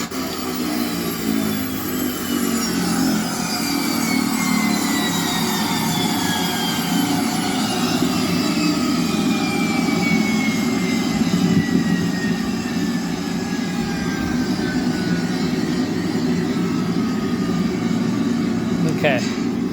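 An AT-802 aircraft sound board running its motor, giving a loud continuous engine-like drone with a rough low rumble and slowly sliding high tones, steady throughout.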